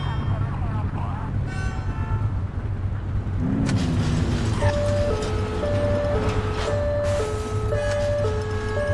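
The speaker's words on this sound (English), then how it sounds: "Turn that siren off." A police car's two-tone siren in the video game The Precinct wails in a steady alternating pattern over a running engine hum, with a voice speaking at times.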